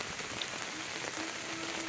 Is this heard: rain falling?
yes